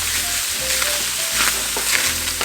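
Onions fry and brown in a pan with a loud, continuous sizzle and occasional stirring scrapes, close and alone with no talking.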